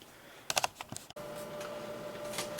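A vintage computer keyboard is tested with a short burst of crisp key clicks, then falls silent while a quiet steady electrical hum from the connected machine carries on.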